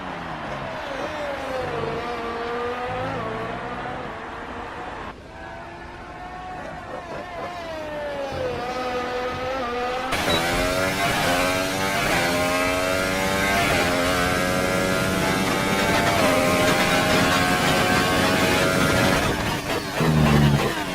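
Modern 1.6 litre V6 Formula 1 cars on track, their engines screaming loudly with rising and falling revs as cars pass and shift, several overlapping passes building to a sustained high-pitched roar, with no talk over it.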